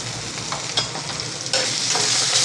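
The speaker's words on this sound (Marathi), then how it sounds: "आता पेस्ट पण चांगली परतून घ्यायची आहे." Ginger garlic paste sizzles in hot oil in a pan for a drumstick curry, a steady close frying hiss broken by scraping stirs of a spoon, louder after a burst midway.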